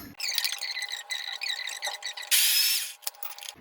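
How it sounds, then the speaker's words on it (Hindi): An electric mixer grinder whirs in short pulsed bursts as it grinds a dry fruit mixture for ladoo, a high buzzing drone that starts and stops, with one louder rush of grinding near the end. "थोड़ा और इसको मैं ग्राइंड कर लेती हूँ"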